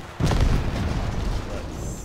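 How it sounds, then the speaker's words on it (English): A launcher missile exploding in Arma 3's Vietnam-era S.O.G. Prairie Fire setting: one sudden heavy blast with a deep, rumbling tail that lingers loudly for the remaining two seconds. "I wonder if that missile blows up if I launch it."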